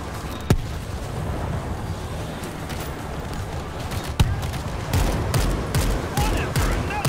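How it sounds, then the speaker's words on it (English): Bomb blasts in the zombie shooter video game World War Z: two sharp booms stand out over continuous crackling gunfire and battle noise, with a voice talking throughout. "Tossing out a bomb."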